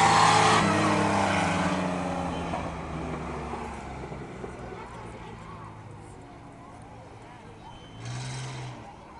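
Race trucks roar past on an oval track through the final turn and down the straightaway, a loud engine drone fading away over several seconds with a brief surge near the end, under an announcer's voice.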